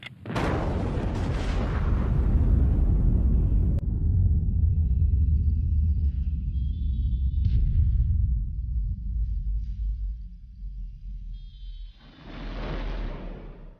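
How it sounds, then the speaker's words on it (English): Deep rolling rumble from an underwater nuclear bomb blast, a heavy low roar that swells and holds for several seconds, then fades before a second surge of noise returns near the end. "5 radio control circuits will set off the blast in this prelude to push-button warfare"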